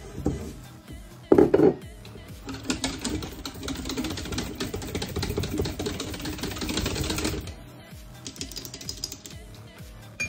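Yeast being mixed into mead must to aerate it, a rough, steady clattering and rattling stir that runs for several seconds after a sharp knock, then fades to quieter scraping.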